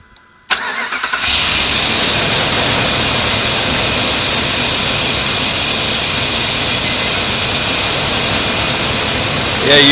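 A 2005 Jeep Grand Cherokee engine cranks and catches after a water pump change, then runs at a loud, steady idle with a constant hum and whine.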